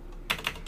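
Fingers tap out code on a computer keyboard in a few quick bursts of clicks, close and fairly soft, with no speech.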